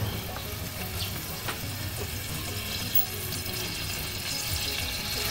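Cooking oil heating in a pan before bok choy goes in, giving a faint, steady hiss and crackle with a few soft clicks, continuous and fairly quiet.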